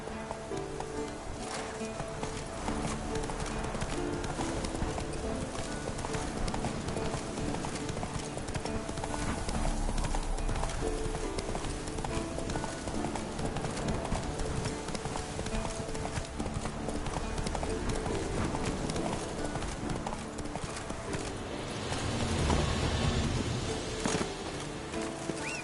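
Roach the horse's hooves clip-clop steadily at a riding gait in The Witcher 3, a continuous loud rhythm under a dense game soundscape with music, with a brief snort or neigh near the end.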